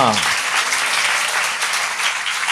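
A congregation claps together inside a church at its opening service, a dense sustained burst of applause heard close, with a voice briefly audible at the start.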